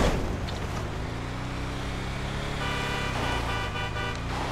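A car drives in the video game GTA V Online, its engine giving a steady, fairly loud hum with a shifting pitch throughout, with no talk over it.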